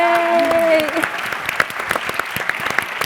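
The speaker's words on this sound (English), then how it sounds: "Give them a round of applause." Audience applause for panelists at the 2024 Reagan Leadership Summit, a loud burst of clapping that starts under a speaking voice, then continues as dense, close applause with distinct individual claps.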